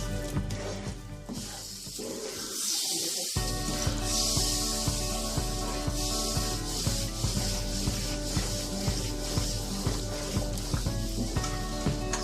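Semolina and milk mixture stirred in a pan over a low flame for a rava milk cake, giving a steady close scraping and soft sizzling with repeated rubbing strokes throughout, no talk.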